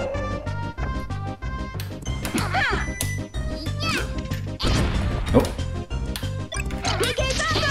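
An up smash attack lands in the Nintendo 64 fighting game Smash Remix, giving sharp percussive smash and crash hits over busy game music and sound effects, with a voice talking through much of it.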